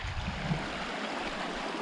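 A Carpathian mountain stream rushes in a steady, broadband wash of flowing water, close and moderately quiet, with no voices.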